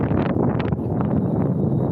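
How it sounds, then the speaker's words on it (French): Wind gusting across a beach kitesurfing spot, buffeting the microphone with a dense continuous low rumble that wavers slightly in strength, loud and close throughout. "Donc le vent s'est levé un petit peu"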